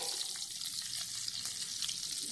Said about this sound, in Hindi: जब तक हमारे अब बैंगन फ्राई हो रहे हैं